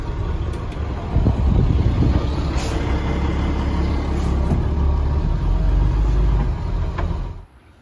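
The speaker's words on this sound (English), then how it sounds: "It's just a little truck." A military surplus 6x6 cabover truck's engine runs with a steady, loud, deep rumble that holds for several seconds before cutting off abruptly near the end.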